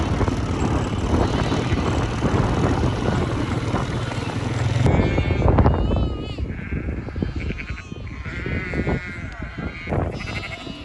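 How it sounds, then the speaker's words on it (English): About 300 sheep, roughly 100 ewes and their lambs, bleat together in a dense overlapping chorus of calls with a steady rumble of noise underneath. "We've got about 100 ewes plus their lambs in here, so about 300 animals overall."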